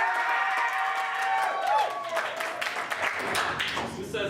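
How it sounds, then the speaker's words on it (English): An improv show audience votes on a performer by applause: a dense wash of clapping and crowd noise fills the room, with scattered whoops and voices mixed in, steady throughout. "we're gonna vote by applause"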